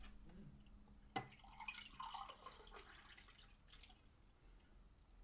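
Tea is poured into a cup indoors, beginning with a sudden splash and then a soft, trickling stream that fades out, quiet and close with no talking.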